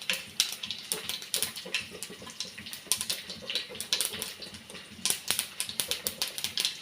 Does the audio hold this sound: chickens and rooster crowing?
no